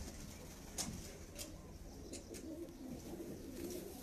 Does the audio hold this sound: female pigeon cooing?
yes